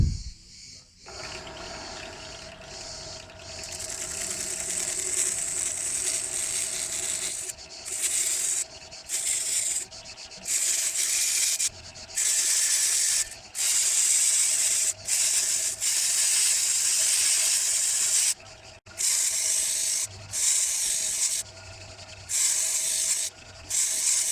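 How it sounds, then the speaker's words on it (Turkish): A stationary sanding machine hums steadily while a walnut wood knife handle is pressed against it, producing a loud abrasive hiss in repeated bursts separated by brief gaps. "Şimdi onunla da zımpara yapıyorum"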